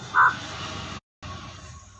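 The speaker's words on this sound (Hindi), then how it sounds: "अरे भाई कौवा भी हां भर रहा है," A single crow caws loudly once near the start, then a steady outdoor background hum continues, cut by a brief silent gap.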